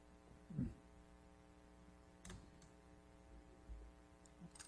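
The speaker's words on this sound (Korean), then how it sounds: "선풍기 좀 끄세요. 뒤에 저거 좀 끄세요." An electric fan hums faintly and steadily in the background of a quiet room, a low continuous drone with a few soft thumps and no talking.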